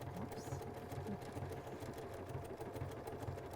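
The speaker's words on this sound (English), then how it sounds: "I may want to lengthen that stitch out a little bit, and I'm going to go ahead and stitch." A BERNINA sewing machine runs steadily, stitching a blanket stitch through fabric with a rapid, even mechanical chatter that holds close and constant throughout.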